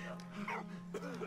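A dog in the World War I video game Valiant Hearts gives a couple of short yelping barks over a steady electrical hum, with a voice speaking at the same time.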